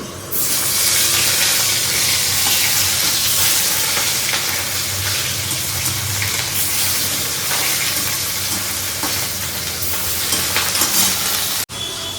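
Potatoes fry in oil in a small wok, a loud, steady sizzle and crackle running continuously for about twelve seconds before cutting off abruptly near the end, with no voices.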